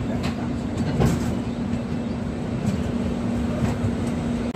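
A passenger train crossing the Barakar river on the Kolkata–Lucknow line gives a steady, loud rolling rumble with faint rhythmic wheel clicks running through it, close and continuous.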